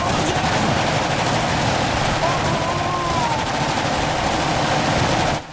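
Sustained machine gun fire from infantry units in the Iron Harvest strategy game, dense overlapping bursts at close range that run continuously until an abrupt cutoff.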